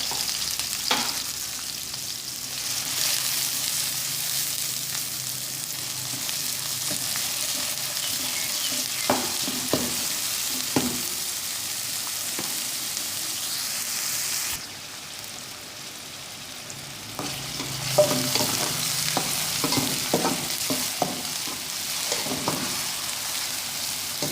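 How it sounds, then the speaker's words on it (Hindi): Finely chopped onion sizzles in hot cooking oil in a pan, a steady close hiss with scattered scrapes and clinks of stirring, briefly softening midway before resuming, no voices. "अब हम इसमें एक बारीक कटी हुई प्याज डालेंगे।"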